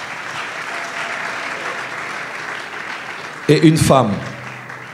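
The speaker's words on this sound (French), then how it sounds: "On peut les acclamer alors qu'ils avancent." An audience at a prophetic church gathering applauds steadily as people come forward, a broad wash of clapping that fills most of the moment before a voice speaks over it near the end.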